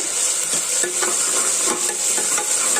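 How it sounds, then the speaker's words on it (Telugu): Ginger garlic paste fries and is stirred in a pan for a Telugu ridge gourd curry, giving a steady, close sizzle with soft scraping strokes throughout and no voices. "ఈ అల్లం వెల్లుల్లి పేస్ట్ పచ్చివాసన పోయేంత వరకు వేయించాలి."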